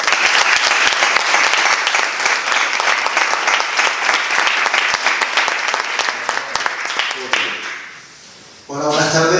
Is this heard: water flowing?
no